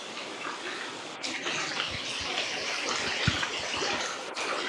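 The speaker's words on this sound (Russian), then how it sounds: "горячая вода оттуда течет" Hot spring water flows and splashes continuously at a low level, a soft steady gush with a few small drips and bubbles.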